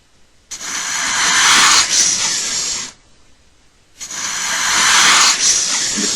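Two long, loud snake hisses, each a harsh airy burst lasting over two seconds, separated by a brief silence.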